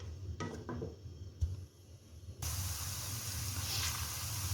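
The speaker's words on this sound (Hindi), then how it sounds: "अब इसे हम फ्राई करेंगे।" Sliced onion dropped into half a cup of hot oil in a pan, starting after a few quiet knocks with a sudden loud, steady broadband sizzle that holds on evenly to the end.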